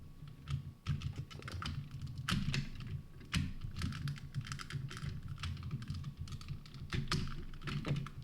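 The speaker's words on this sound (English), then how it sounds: "supposedly these just click right into place" Plastic parts of a Power Rangers Legacy Thunder Megazord toy snapping and clicking into place, a run of close, sharp irregular clicks and taps over soft handling noise, no talk.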